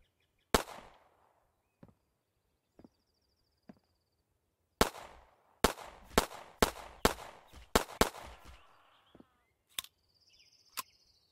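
Gunfire in the Hold Your Own video game: sharp, isolated single shots at first, then a quick irregular burst of loud cracks, with a few lighter clicks and metallic tones in between.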